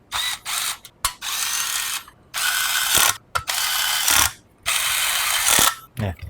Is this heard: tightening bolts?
yes